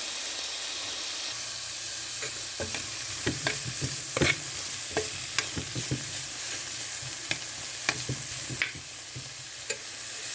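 Peas, broccoli and cumin stir-fry in hot oil with a steady sizzle, while a spoon scrapes and clacks against the pan in irregular strokes, close and fairly loud.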